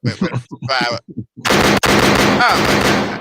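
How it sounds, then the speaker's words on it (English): Someone speaks briefly, then a loud, dense burst of gunshot sound effects breaks out and keeps going for nearly two seconds. "I gotta find my gunshots on that one."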